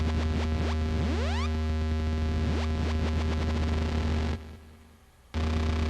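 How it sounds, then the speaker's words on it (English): A bright, harmonically rich Synthstrom Deluge synth tone with repeating upward pitch sweeps from a sawtooth LFO, each rising and resetting, then briefly dropping away before returning. "The saw wave."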